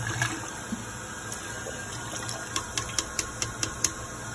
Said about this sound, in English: you can flush it and rinse off the scrubby with the clean water